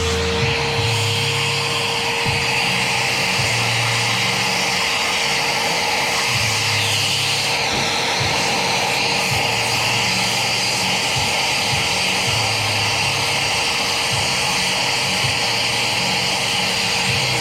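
Shop vacuum sucking debris out of a bolt hole in a race super truck's engine, a loud steady whining roar held throughout with brief shifts as the nozzle moves, close by.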